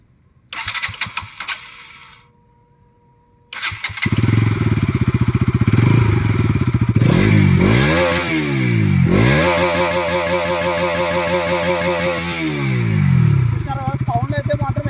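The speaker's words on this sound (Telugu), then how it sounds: "గైస్ ఒకసారి మనము బైక్ సౌండ్ అయితే ఒకసారి టెస్ట్ అయితే చేద్దాము." A Bajaj Pulsar NS200 motorcycle engine cranks and fires up after a brief pause, then settles into a loud, close idle with repeated throttle blips rising and falling in pitch.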